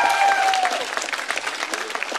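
A studio audience at a televised cash-prize quiz show bursts into loud, dense applause, with a bright whistle-like tone at the start and sharp individual claps throughout the short burst.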